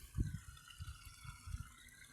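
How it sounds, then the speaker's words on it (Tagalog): Irrigation water flows strongly on a farm plot, with low gushing surges and splashes that pulse irregularly, fairly close and without talk. "ang lakas ng tubig dito"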